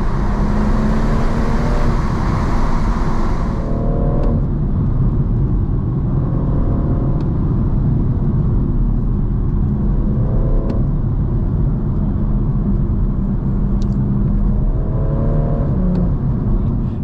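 BMW M140i Shadow Edition with manual gearbox driving at night, engine droning steadily under heavy road and tyre noise, with repeated rises and falls in pitch as the car accelerates and shifts gears.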